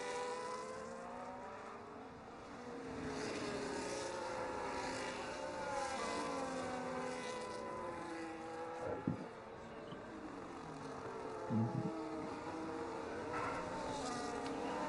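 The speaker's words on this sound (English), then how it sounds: "Oh, we just heard a car in the background." A race car in an Azerbaijan round of a racing game passes in the background, its engine note rising and falling in sweeping revs at moderate distance, with a couple of brief thuds.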